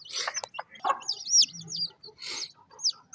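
A black Silkie mixed-breed chick with five toes cheeps and clucks in quick, high, close chirps while being picked up and held.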